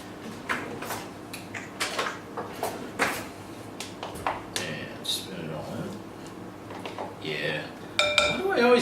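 Bowl and utensils clink and scrape in a home kitchen while cottage cheese is mixed for lasagna, a series of irregular nearby knocks and taps with some sharper metallic clinks near the end.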